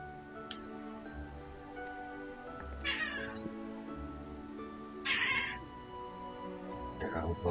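A cat in a game cutscene meows several times, short and moderately loud calls spaced a couple of seconds apart, over a steady musical background with faint ticking.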